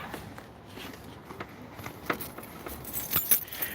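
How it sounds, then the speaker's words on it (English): Keys jangling close by, a series of light metallic clinks and rattles over a few seconds, growing a little louder toward the end, with faint car and footstep noise in the background. "oh, I gotta get my keys"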